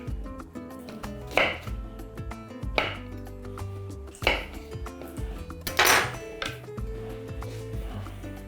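Quince being chopped on a cutting board in a home kitchen, several distinct knife strikes at irregular intervals under background music, no talk.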